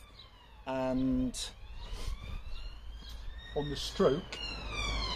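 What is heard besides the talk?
police car siren passing by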